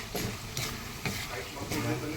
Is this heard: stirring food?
yes